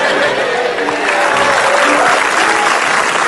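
An audience on an Indonesian comedy show bursts into loud, sustained applause, dense clapping that fills the room without a break.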